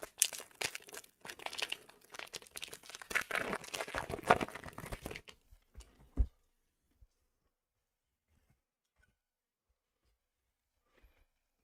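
Spider-Man trading card booster packs being torn open by hand, with dense crinkling and ripping of foil wrappers for about five seconds, a last sharp tear, then near silence broken by a few faint handling ticks.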